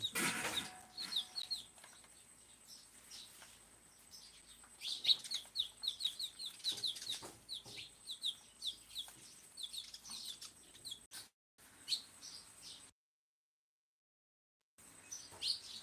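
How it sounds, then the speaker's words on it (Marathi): Birds call repeatedly from a tree beside a house: a busy, fairly close stream of chirps and clucking calls, with a short silent break near the end before the calls resume. "पक्षी भरपूर येतं झाड जवळ आहे त्याच्यामुळं दारापुढं घरापुढं दा हे झाड असल्यामुळं पक्षी भरपूर राहते"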